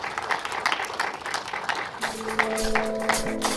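Audience at a panel discussion breaks into applause, a steady patter of many hands clapping at moderate distance, joined near the end by a sustained tone.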